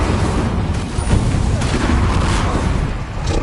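A spell blast from a Harry Potter video game, the Incendio fire charm, bursts out as a loud, dense rumble of booms and crackling that runs steadily for the whole stretch with no pauses.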